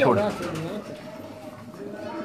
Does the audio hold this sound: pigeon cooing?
yes